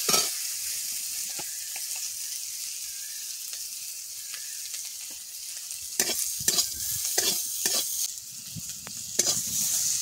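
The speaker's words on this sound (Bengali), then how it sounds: "আমগুলোকে নেড়ে চেড়ে লবণ দিয়ে জল ঢেলে দেবো।" Green mango pieces being stirred in a hot pan with oil during village cooking, a steady close sizzle with scraping stirs that become louder, repeated strokes in the second half.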